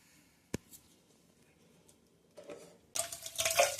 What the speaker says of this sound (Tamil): கறியை நல்லா அலசி எடுத்துக்கலாம்.